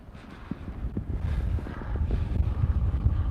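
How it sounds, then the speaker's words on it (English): Strong wind gust buffeting an outdoor microphone, a steady low rumble that builds louder and rougher toward the end, with no talk over it. "I just had a big gust of wind from the side"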